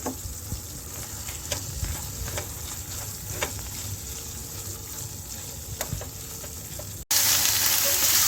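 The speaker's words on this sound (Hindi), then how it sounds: "चिकन गल चुका है, इसमें क्रीम को डालेंगे, मिक्स करेंगे और इतनी देर तक पकाएंगे कि ऑयल सेपरेट हो जाए।" Cream is stirred into simmering chicken keema karahi in a pan, a continuous close sizzle and bubbling with occasional spoon clicks, ending in a sudden louder burst of hiss.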